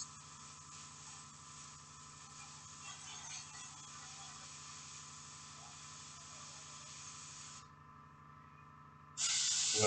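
An airbrush sprays paint onto a miniature jump pack with a steady close hiss that cuts out near the end, followed by a brief louder burst of spray.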